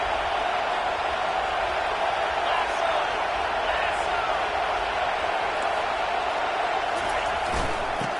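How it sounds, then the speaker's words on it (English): Loud, steady roar of a stadium crowd at a football game as the defense takes the field, a dense continuous wall of noise with no clear breaks. "It is getting loud as this crowd tries to help its defense."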